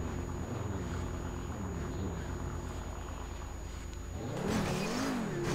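Steady engine drone of a wide-tyred car driving and sliding on a parkour track in GTA 5, holding a constant hum before revving up louder and wavering near the end, with no talk.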